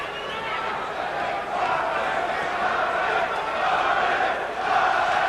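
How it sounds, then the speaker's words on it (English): A large boxing crowd chants a fighter's name rhythmically in an arena, a swelling roar of many voices rising and falling. "Crowd starts to chant Marvin, Marvin."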